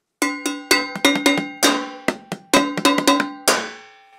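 A plastic bowl and a metal cookie sheet are struck one after another in an uneven rhythm, about a dozen sharp ringing hits with short metallic decays, close and loud with no voices.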